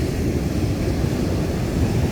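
Calm ocean water washes against the shore in a continuous, broadband roar, with wind buffeting the microphone and no talking.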